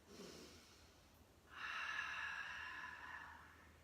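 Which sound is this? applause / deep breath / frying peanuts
deep breath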